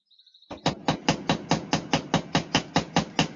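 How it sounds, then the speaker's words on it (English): A rawhide mallet hammers a soft copper rivet to form its head, a few light taps followed by a steady series of about a dozen evenly spaced, sharp, close knocks. "I'm just going to, again, come in with my rawhide mallet"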